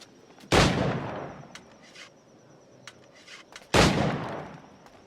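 Two loud, close firearm shots from Assassin's Creed IV: Black Flag, widely spaced with a reverberant tail after each, with faint clicks and rustles in between.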